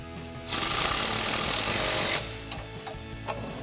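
An 18mm mounting nut on a Sierra 1500 truck suspension being tightened, a single loud burst of a power impact tool lasting under two seconds, followed by faint clicks.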